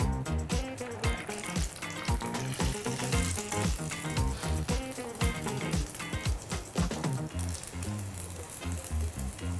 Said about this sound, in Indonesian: Nah, minyaknya udah panas, saatnya kita menggoreng pangsit.